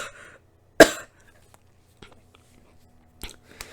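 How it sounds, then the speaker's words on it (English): One sharp, loud cough bursts out close to the microphone, followed by quieter throat sounds and another softer cough near the end, against near silence. "I'm coughing so much, I promise I don't have COVID"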